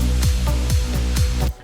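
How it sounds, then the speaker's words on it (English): In a remix, a heavy kick drum thumps out a steady beat of about seven hits under a dark, sustained synth bed, loud and close, before cutting off abruptly. "then this kick sort of comes in"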